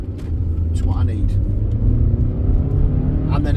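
A car pulling away from the biting point of the clutch, a steady low engine rumble that builds gently while someone talks over it throughout.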